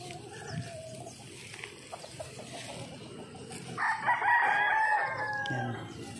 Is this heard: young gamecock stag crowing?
yes